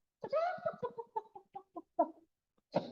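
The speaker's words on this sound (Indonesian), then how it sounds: "suara ayam" A chicken clucks in a rapid series of short, close calls that slow toward the end, followed by one more sharp cluck.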